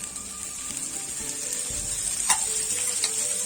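Potato pieces fry in a little oil on a dosa griddle with a soft, steady sizzle close by, broken by a couple of faint ticks and light clinks.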